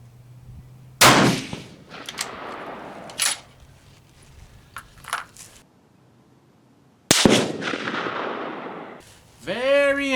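Two sharp rifle shots from a Steyr rifle fitted with a Lencac Arken scope on an outdoor range, each a loud crack followed by a rolling echo, with quieter clicks between them.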